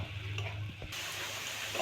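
Ghetkul fry with a little sugar is stirred in a pan over a soft continuous sizzle, with a couple of faint scraping knocks from the spatula.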